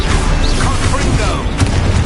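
A Confringo spell blast in the Hogwarts Legacy video game, loud booming combat with a crash and sharp impact near the end over constant low battle rumble, a voice talking through it.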